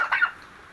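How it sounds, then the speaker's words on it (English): A farm turkey gives a short, nasal gobbling call up close, lasting under half a second, then fades into quiet background. "These turkeys are not laying eggs yet, but they will be soon."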